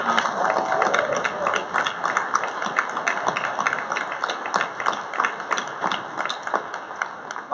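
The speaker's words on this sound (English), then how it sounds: "I hope if you will join me in a round of applause for Sheridan Hospital" Audience applause at a hospital recognition ceremony, a dense, steady patter of many hands clapping that holds at a moderate level throughout with no voices over it.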